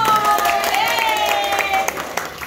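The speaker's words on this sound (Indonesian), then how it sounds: "Sekali lagi tepuk tangan untuk kelompok 1." A crowd claps for a presenting group, steady applause running under a sustained tonal hum and faint voices, thinning into scattered individual claps near the end.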